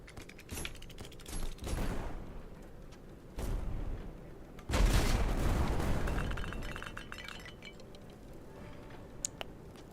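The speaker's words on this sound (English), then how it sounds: "hold RB for side cannons, then release the volley" Ship side cannons in a video game, several scattered booming shots followed by a heavy rolling volley that swells loudly midway and then fades, ending with a few faint clinks.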